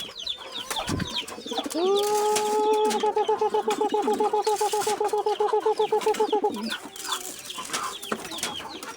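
Chickens and pigeons at feed, with a rapid, rhythmic repeated clucking or cooing call running for several seconds amid scattered bird noises and light rustling nearby.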